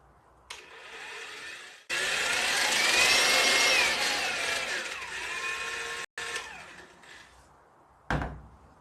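A DeWalt FLEXVOLT 18/54V brushless mixer with a wand on an M14 thread whirs loud and close, starting and stopping abruptly several times as its speed shifts from top speed down to low.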